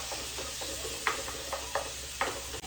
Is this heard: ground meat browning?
yes